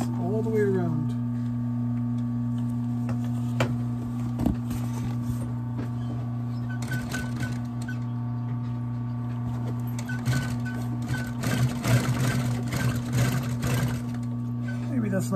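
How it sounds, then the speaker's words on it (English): A sewing machine runs steadily, stitching all the way around a stiff bag turned inside out, with its loud motor hum and rapid needle ticking close by while someone talks over it at times. "now we're gonna stitch it all the way around"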